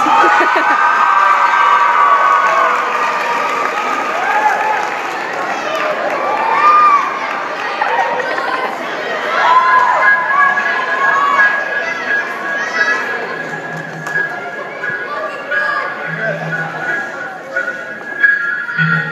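A stage audience cheers, shouts and claps as a performer is introduced for a Jingle Bells triangle act, a steady crowd roar with children's voices mixed in and a voice over it.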